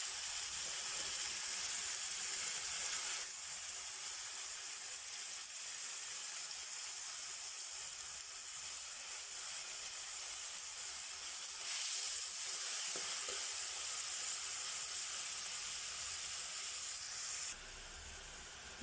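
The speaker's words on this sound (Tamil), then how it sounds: "இஞ்சி பூண்டு பேஸ்ட்டு நமக்கு பச்சை வாசம் போகிற அளவுக்கு வதக்கி விட்டுக்கோங்க" Steady sizzling and hissing of ginger garlic paste frying in a hot pan, constant and close, with faint stirring underneath.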